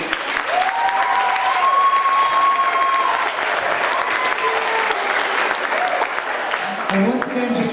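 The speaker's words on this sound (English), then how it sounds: "a great round of applause for these two finalist teams is in order" A school audience applauds two finalist teams at a middle school debate final, steady clapping filling the hall for several seconds, with a voice and tonal sounds running over it and the clapping thinning toward the end.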